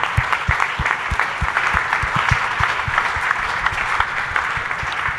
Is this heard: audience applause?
yes